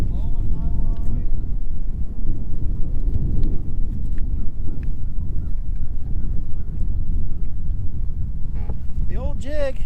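Strong wind blowing across a lake during bass fishing, buffeting the microphone in a continuous low rumble and gusts, with people talking over it.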